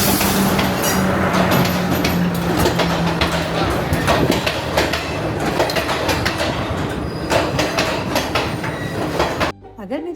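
A passenger train in Sri Lanka running between Ella and Kandy: continuous loud rolling rumble with rhythmic wheel clatter and a brief squeal early on, steady for the whole stretch before dropping off suddenly at the very end.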